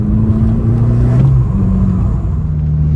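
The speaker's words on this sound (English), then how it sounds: "I feel like I need a Record Monza exhaust just for that downshift noise" A hot hatch engine with a Record Monza exhaust rumbles and revs on a race track, its pitch dropping and rising as it downshifts, loud and close.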